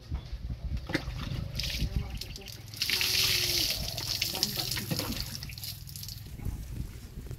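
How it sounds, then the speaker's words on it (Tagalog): Water is poured repeatedly during a bath, splashing and gushing in bursts that swell midway, close by, with people talking over it. "Bilis, buhos."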